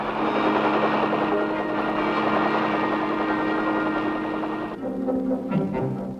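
Steady, loud rotor drone of military helicopters flying overhead in 1965, a continuous throbbing roar that shifts in tone near the end.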